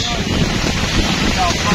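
Strong cyclone wind buffets the microphone in a loud, rough, continuous rumble, with a voice faintly underneath.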